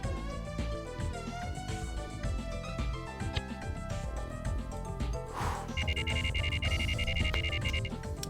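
A telephone rings in the video game The Silver Case, an electronic ring rising over busy in-game music during the second half of the clip.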